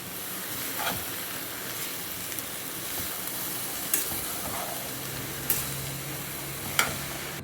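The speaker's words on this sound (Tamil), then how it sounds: "இப்போ சுண்டலை கொட்டி நல்லா கலரி எடுக்க வேண்டியதுதான்" Boiled chickpea sundal, a Tamil masala chickpea snack, stirred in a pan, with soft scraping and light sizzling plus a few sharp clinks of the spoon against the metal, all with no talk.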